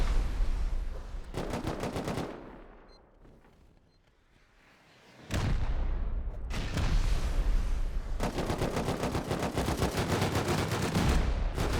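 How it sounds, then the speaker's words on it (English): Rapid crossfire gunshots ring out in a Rust 8v8 tournament match, with dense bursts of automatic fire, a brief lull in the middle, then sustained volleys resuming loud and near. "A lot of crossfire shots coming through."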